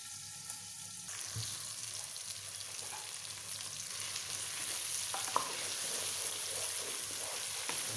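Chicken meat (gosht) frying in a pan for chicken kadi, a steady close sizzle with faint stirring scrapes, no talking over it.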